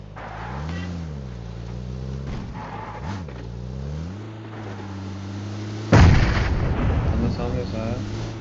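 Gunfire in the mobile battle royale game PUBG Mobile, with a steady engine-like drone underneath and a sudden loud burst of shots near the end.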